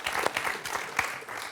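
Brief burst of studio audience applause on a French television quiz show, dense clapping from many hands with a few sharper accents, steady and fairly close.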